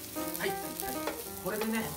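Yakisoba noodles and okonomiyaki batter frying on a hot griddle for Hiroshima-style okonomiyaki, a close steady sizzle with crackling bursts and spatula scrapes throughout, without talking.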